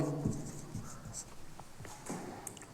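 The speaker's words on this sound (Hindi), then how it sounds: "राम एक सेंटेंस में लिख देता हूँ" A sentence being written by hand, with soft, close scratching of a pen or marker across a surface in short strokes and pauses, quiet and continuous.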